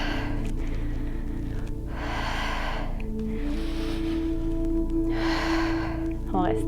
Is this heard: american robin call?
no